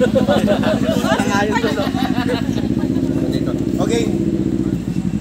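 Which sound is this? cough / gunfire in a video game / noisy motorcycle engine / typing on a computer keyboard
noisy motorcycle engine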